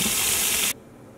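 A strong steady gush of tap water pours while tie-dyed sock yarn is rinsed in a sink, close and loud, then cuts off abruptly partway through, leaving a faint room hush.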